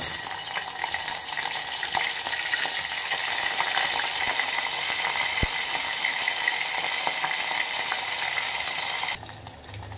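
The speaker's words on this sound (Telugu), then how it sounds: "ఆయిల్ కొంచెం హీట్ ఎక్కాక దాంట్లోకి ఒక్కొక్కటిగా వేసుకుంటున్నాను" Salted fish pieces fry in hot oil, a steady dense sizzle and crackle that holds for about nine seconds, then drops abruptly quieter near the end.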